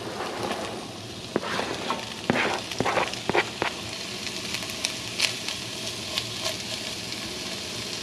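Onions sautéing in a hot pan next to browned beef, a continuous close sizzle broken by several sharp spatula scrapes and clicks of stirring; no voices.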